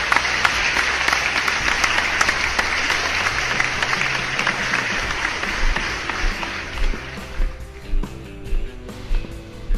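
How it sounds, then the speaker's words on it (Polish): A crowd applauds loudly with dense, continuous clapping that thins out toward the end into a few scattered claps. "dzisiaj wielkie, ale to wielkie brawa"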